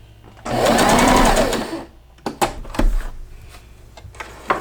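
A sewing machine runs in a loud, fast, steady burst as it stitches a dart in fabric, then stops, followed by several close clunks and taps of handling the machine and material.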